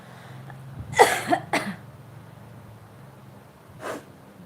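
Two or three close, harsh coughs in quick succession, followed by a softer single cough a few seconds later, over a quiet background hum.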